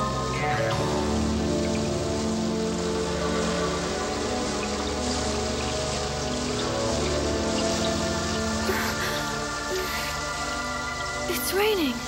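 Rain falls steadily in dark woods at night in an animated fairy tale, a continuous hiss that stays constant beneath a bed of music and occasional vocal sounds.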